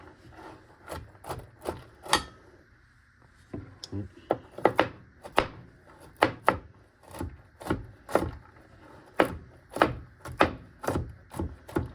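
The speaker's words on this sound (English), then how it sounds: "just so y'all don't have to watch me chopping lots of pecans" A knife chops pecans repeatedly on a wooden board, sharp irregular knocks in quick bursts, close and clear with no talking.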